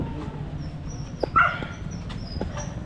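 A dog outdoors lets out a brief whining yelp amid a few faint clicks and yips, set against a constant low background drone.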